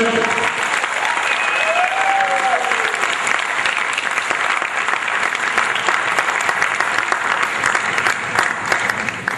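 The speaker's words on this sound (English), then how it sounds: "can we have a big round of applause for them?" An audience at a humorous speech contest breaks into loud, sustained applause, a dense wash of clapping that holds steady throughout, with a few voices and whoops rising over it.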